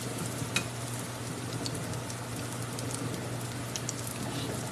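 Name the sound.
pinto bean cakes frying in a hot pan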